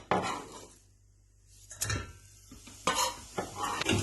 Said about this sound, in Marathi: पियाव भाजलो जाव